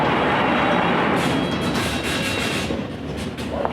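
London Underground train running, a steady loud broadband rumble with rail noise throughout and faint rhythmic wheel clatter, no talking.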